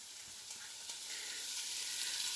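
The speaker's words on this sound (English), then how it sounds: "So while those veggies are frying off" Vegetables and herbs fry in a pan, giving a steady, close hissing sizzle that builds slightly in loudness, with a few soft clicks of stirring underneath.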